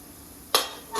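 A pot lid set down over patrode steaming in a pot, giving one sharp metallic clank followed by a brief ringing tail and a second lighter knock at the end, close and alone.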